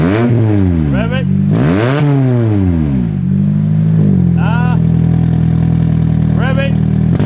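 A Honda CR-V with a major engine power loss fault is revved repeatedly. The engine rises and falls in several loud surges over a steady idle, close by, with talk over it.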